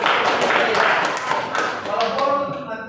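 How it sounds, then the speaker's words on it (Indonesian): A school class applauds a student's storytelling: a brisk patter of many small hands clapping in a classroom, with voices mixed in and the clapping thinning toward the end. "Kita berikan tepuk tangan lagi, ya."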